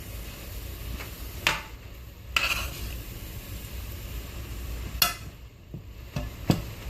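A spoon stirs ground turkey and vegetables in a pot for chili, giving several scattered scraping knocks against the metal over a low, steady cooking rumble and faint sizzle.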